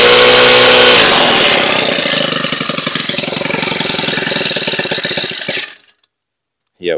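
Small Honda GX31 four-stroke engine held back by its clutch and gear drive, running loud and raspy with a rapid firing pulse for about six seconds, then cutting off into silence.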